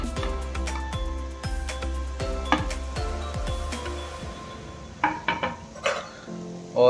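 A spoon scraping and clinking against a bowl as chicken salad is tossed with sautéed vegetables, a steady run of close, rhythmic knocks and scrapes followed by a few louder clanks near the end.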